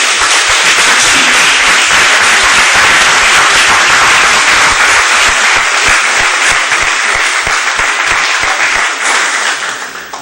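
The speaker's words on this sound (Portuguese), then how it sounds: "Vamos dar uma salva de palmas para ele, em nome de Jesus." A church congregation breaks into sustained, dense applause that fills the room for the whole stretch, loud and steady before tapering slightly at the end, with no talk over it.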